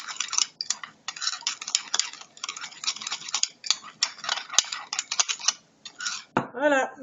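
Honey and sugar face scrub mixture stirred in a bowl, giving repeated close scraping and clinking strokes in a steady rhythm for most of the time, with a brief voice near the end.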